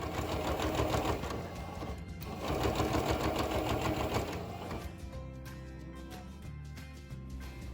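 A sewing machine topstitches a fabric bag, running in steady bursts with a brief pause near two seconds and a quieter stretch toward the end, close and alone.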